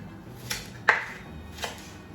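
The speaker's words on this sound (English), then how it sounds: "I'm going to be slicing my onion" Two or three quiet, sharp knife strokes cut through an onion into big chunks on a board, evenly spaced and close by, with no talk.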